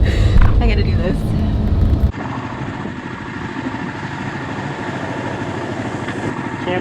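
A newly bought motorcycle's engine runs with a louder rumble at first, then settles into a steady, even idle throb that continues close by, with no talk over it.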